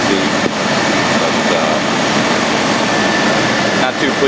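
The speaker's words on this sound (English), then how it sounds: "It's a very smooth running engine." A 1998 GMC Jimmy engine runs smoothly at idle, a loud steady broadband hum close by that stays continuous throughout.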